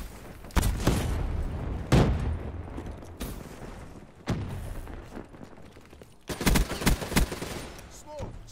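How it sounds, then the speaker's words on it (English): A PPSh submachine gun fires in Call of Duty Black Ops 3, with loud bursts of rapid gunfire and heavy booms alternating with brief lulls, and a voice talks over the action. "That PPSH is a very powerful gun."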